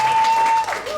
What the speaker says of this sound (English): can we give a huge applause to those who organize these events, please?